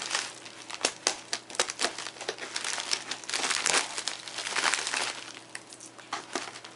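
Crinkling and crumpling of gift wrapping and packaging as a parcel is cut open and unwrapped, a steady run of close, papery rustles and crackles with sharper tearing bursts, no talking.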